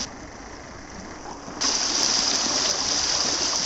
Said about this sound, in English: show you a little stream.